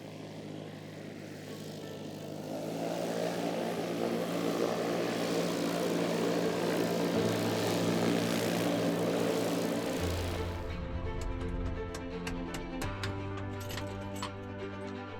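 A propeller plane passes steadily, loud and continuous with a droning engine hum that shifts pitch midway, no voices over it.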